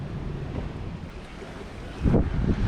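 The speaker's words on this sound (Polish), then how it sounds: "A naprzeciwko wypływa prom Red Funnel." A Red Funnel ferry sails out across Southampton Water, heard as low engine rumble and water wash under steady wind noise, swelling louder near the end.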